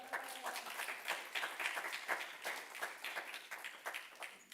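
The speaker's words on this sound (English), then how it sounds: "So Michael, round of applause for him" Audience applause at a summer intern final presentations event, steady clapping from a group of people that holds through the whole stretch at moderate level.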